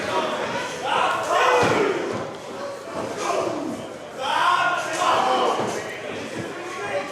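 Four tag-team wrestlers trade strikes in the ring at a pro wrestling title match, with dull slaps and thuds under an excited commentator's voice and a roaring crowd.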